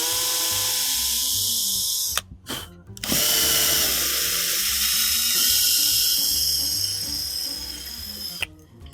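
A power drill fitted with a tap-sized bit bores through a plastic blaster kit part, whining steadily for several seconds, cutting out briefly, then spinning up again and tapering off near the end.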